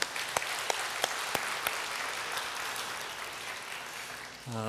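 Church congregation at a Korean worship service applauding together, a soft, steady wash of clapping with a few sharper claps standing out early on.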